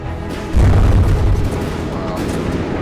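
In a video game, a deep, heavy explosion booms and rumbles for about a second, then fades into a lower rolling rumble.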